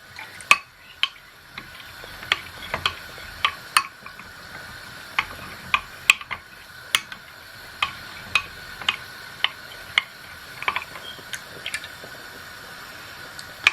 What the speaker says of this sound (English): so stir it to a nice and smooth consistency